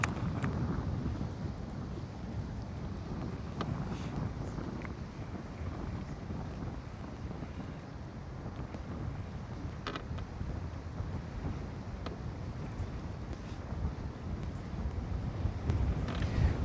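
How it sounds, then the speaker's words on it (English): Wind blowing outdoors during bass fishing on open water, a constant low rumble buffeting the microphone that stays heavy and unbroken throughout, with a few faint knocks underneath. "Oh, we're getting breezy."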